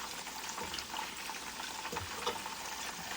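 Crispy pata, a boiled pork leg, deep frying in hot oil, giving a steady, loud crackling sizzle with small pops throughout and no voices.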